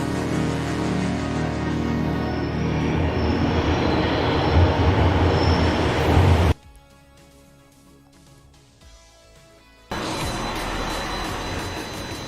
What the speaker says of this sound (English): Are these just videos of trains, or are they TTC Line 4 action at all stations?